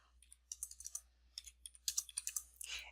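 Budget code typed on a computer keyboard, quick bursts of close, crisp key clicks with short pauses between groups, no talking.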